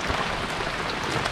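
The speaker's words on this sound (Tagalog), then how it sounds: "Nabutan kami ng ulan." Rain pours steadily at a fishing outing, a dense, even hiss of drops close by with no break.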